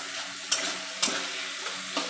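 Chicken sautéing with spices in a pan for egg chicken tarka: a steady close sizzle broken by a few sharp scraping stirs of a spatula about half a second apart.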